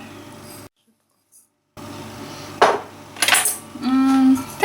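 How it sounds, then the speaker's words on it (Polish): A fork mixes muffin batter ingredients in a bowl: orange zest, baking powder, soda, ground nuts and sugar. Sharp metallic clinks and scrapes come close up after a brief silent gap. "teraz wszystko mieszamy widelcem"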